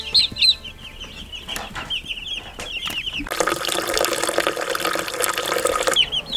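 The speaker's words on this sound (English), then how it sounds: "here we have some babies. Chicks and some poults" High, repeated peeping of chicks and young turkey poults on a homestead, close by, soon joined and partly covered by a rushing sound like running water.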